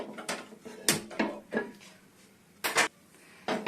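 A pan set down on a home kitchen stove, giving several sharp metallic knocks and clatters spaced across a few seconds, close and moderately loud, with no talking.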